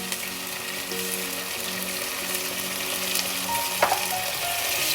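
Canned chopped tomatoes go into a hot pan for a kidney bean stew, bringing a steady moderate sizzle with a faint hum and a sharp clink near the end, close with no talking.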